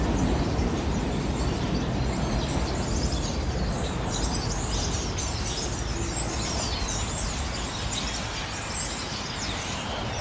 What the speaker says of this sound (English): a whole bunch of pigeons nesting underneath the subway rails, some of the above ground outdoor subway rails, and you could hear them chirping and stuff quite loudly